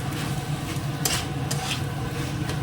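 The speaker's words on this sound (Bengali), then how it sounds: "এবার মোচাটা ঢেলে দিচ্ছি ভালো করে মিশিয়ে নিচ্ছি" Spoon stirring banana flower (mocha) curry in a pan, a steady soft scraping and sizzle with a few brighter clinks, close and continuous with no talk.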